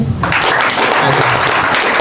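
A class of students in a lecture hall claps loudly and densely, a sustained burst of applause that begins abruptly and continues without a break.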